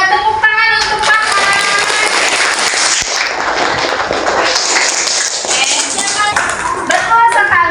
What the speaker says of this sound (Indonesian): tepuk tangan untuk Paha